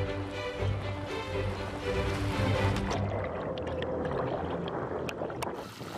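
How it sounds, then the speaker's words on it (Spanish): Underwater drone of large ships' engines and propellers in a river habitat where seals hunt, a low rumbling hum with steady tonal whine and churning wash, fading into scattered clicks and bubbling toward the end. "El ruido de las hélices y los motores interrumpe la caza de las focas y las hace bucear inquietas."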